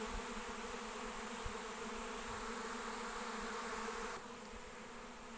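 Honeybee swarm settling low near the ground, a dense, continuous buzzing hum from many bees close by, steady throughout and dipping slightly near the end, with no voices.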